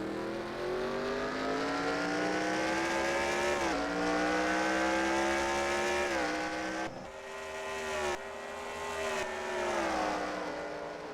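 Race car engines from NASCAR Racing 2003, a Cup Series race at Sonoma, roar loudly and continuously, pitch rising and falling with gear shifts and several cars passing close.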